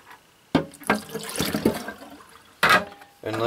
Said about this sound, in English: let me drain that out